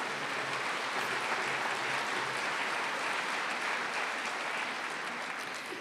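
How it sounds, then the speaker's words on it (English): Sustained applause from a large graduation ceremony audience honoring faculty members, a dense, even clapping roar that holds steady from start to finish without any voices. "Warm round of applause to these accomplished faculty members."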